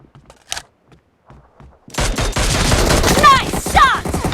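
Gunfire from a mobile shooter video game: after a few quiet taps, a dense, loud burst of rapid shots starts and continues with bright ricochet-like whines.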